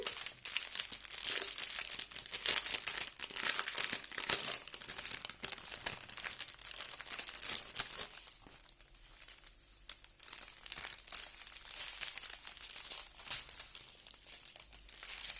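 Crinkly plastic packaging of a diamond painting kit being opened up close, with continuous crackling, crumpling and occasional tearing that keeps going for about fifteen seconds with no talking.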